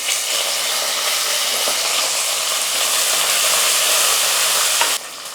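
Small shallots and curry leaves fry in a hot pan with a dense, steady, close sizzle that cuts off abruptly near the end, with no voices.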